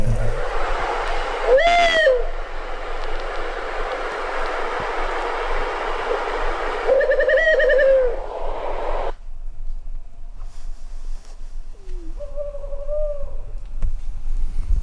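A wild owl hoots in answer to a call-playback survey at a national nature survey site. Several wavering hoots come at intervals, fairly close, over a steady hiss of background noise, with no talking.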